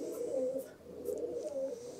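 Pigeons in a loft coo in soft, repeating throaty rolls, several low calls overlapping close by, with faint rustling in the background.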